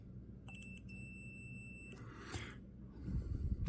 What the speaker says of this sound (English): let's first do a test on a component basis with my UNI-T UT120C, really nice pocket multimeter